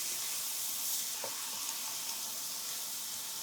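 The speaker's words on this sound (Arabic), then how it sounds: "بعدين بنضيف الفطر كمان بنقلبها لحتى يتغير لونه" Mushrooms and peppers sizzle in a hot pan while being stirred, a constant dense hiss with a faint scrape near the middle, close and steady, no voices.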